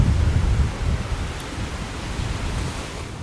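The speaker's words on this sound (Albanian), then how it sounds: "Shikoni çfarë erë fortë." Strong wind blows along the seafront at Durrës, Albania, a loud, blustering rush that gusts hardest at the start and then settles into a steady roar, with no voices.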